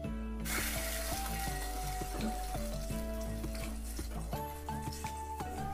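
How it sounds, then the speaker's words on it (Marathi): Stock poured into a hot pan of whole spices, pepper, cloves, green chillies, star anise and bay leaves for a Kolhapuri rassa sizzles and crackles steadily, with clinks and tonal ringing over a low hum and no voices. "आता आपण याच्यामध्ये स्टॉक घालू।"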